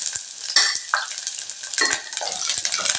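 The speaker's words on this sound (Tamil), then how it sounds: "இதை நல்லா வதக்கி விட்டுறலாங்க." Chillies, shallots, garlic and tamarind being sautéed in a pan for karuvadu thuvaiyal, with steady sizzling and a few scraping stirs close up, no voices.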